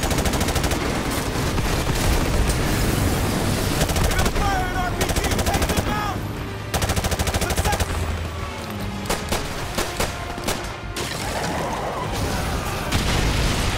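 Dense, continuous automatic gunfire and rapid single shots from Call of Duty: Modern Warfare Remastered on PC, loud and close, with bursts crackling over an unbroken battle din and occasional booms.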